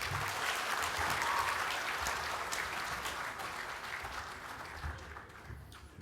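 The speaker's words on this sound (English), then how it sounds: "Another round of applause, please, for the Office of the Auditor General." Applause fills the hall at a business excellence awards night in Fiji, a broad sustained clapping from the audience that slowly fades toward the end.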